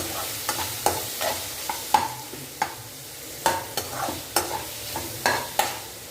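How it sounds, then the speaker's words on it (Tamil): Fennel, onion and tomato sautéed together in a pan, repeated spatula scrapes and taps against the metal in an uneven rhythm over a soft steady sizzle, close and clear, with no talking. "இந்த பக்கம் பார்த்தீங்கன்னா சோம்பு வெங்காயம் தக்காளி சேர்த்து வதக்கிட்டு இருக்கேன்"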